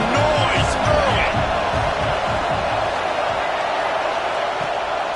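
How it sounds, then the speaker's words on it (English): Stadium crowd roaring throughout a College Football 25 video game broadcast, a dense, steady wall of noise with a few whoops rising above it. "This crowd bringing the energy and noise early."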